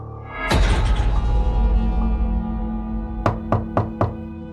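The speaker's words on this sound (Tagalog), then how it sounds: "Kumatok ako ng marahan." A bedroom door is knocked on softly, four quick light taps in a row after a sustained low, droning tone, with no talking.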